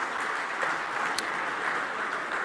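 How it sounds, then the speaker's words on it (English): Applause from an audience at a racing awards ceremony as a trainer comes forward, dense continuous clapping from a hall crowd, fairly loud and steady, with one brief sharp click partway through. "Give her a round of applause."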